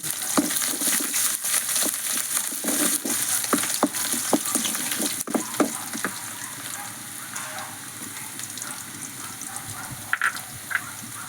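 Chopped ginger and garlic frying with coconut and mustard in a pan, a lively sizzle with repeated stirring clinks and scrapes, closer and busier early on, then settling into a gentler crackle.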